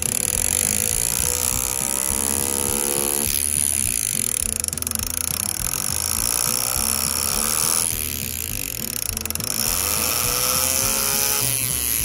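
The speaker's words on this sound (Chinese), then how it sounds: "来，我们就可以来做简易的一个雕刻。" A Foredom H.15 handpiece fitted with an engraving tool does simple metal engraving. It gives a loud, steady, high-pitched buzzing whine that holds for the whole stretch with only slight shifts in tone.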